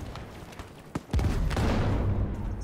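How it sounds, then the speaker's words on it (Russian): Battlefield V gunfire: sharp shots crack out over a rumbling battlefield backdrop, with a heavy blast near the middle giving way to sustained, dense firing. "Стрельба идет."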